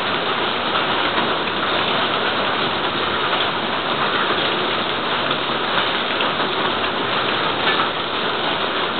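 Heavy rain pours down during a thunderstorm in Nováky, flooding a garden. It makes a loud, dense, unbroken roar of drops that holds steady throughout with no voices.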